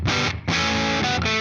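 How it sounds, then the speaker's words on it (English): An electric guitar played through a Supercool distortion pedal with its clipping diodes engaged gives loud, saturated distorted chords, three sustained strums with brief gaps between them and no talking. "So now we can turn it back down and you can get just that straight up distortion"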